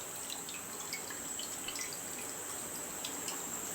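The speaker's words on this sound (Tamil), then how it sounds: "தண்ணி வடியட்டும்." Water drains from rinsed homemade paneer curds, a faint, soft trickle with scattered light drips, quiet and continuous with no voices.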